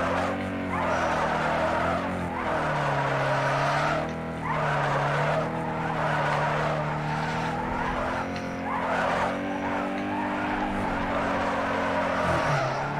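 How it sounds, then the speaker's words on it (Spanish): A car drifting in the video game Need for Speed Underground 2, with long sustained tire squeals and skidding over a revving engine drone, loud and continuous, its pitch rising and falling as the slide goes on. "ya ves el escándalo que saqué con el derrape este"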